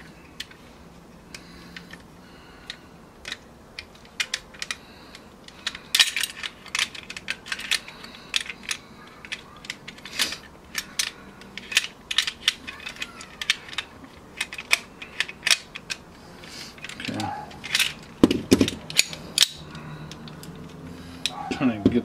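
Sharp mechanical clicks and clacks from handling and dry firing an EMG Hudson airsoft pistol, scattered irregularly through the clip at close range, with a cluster of louder handling noise near the end.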